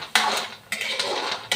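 A spoon stirs a garlicky shellfish sauté, thickened with a little sugar and cornstarch, in a pan, giving two or three loud scraping, clinking bursts of metal against the pan with short gaps between, close by and with no talking.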